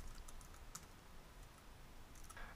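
Keys on a computer keyboard tap in quick irregular clicks during a Flash and Flex coding session, quiet and close, with a steady background hiss and no speech.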